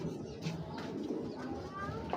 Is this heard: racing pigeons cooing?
yes